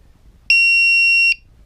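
A homemade electronic buzzer mounted on the back of a build alongside LED strips sounds one steady, loud, high-pitched tone for under a second, beginning and ending abruptly, with no talking.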